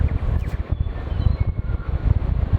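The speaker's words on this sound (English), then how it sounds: "you'll have to excuse the wind noise. It's absolutely whipping through here." Strong wind whips through an outdoor campsite, a steady loud roar of wind noise buffeting the microphone with rumbling gusts throughout.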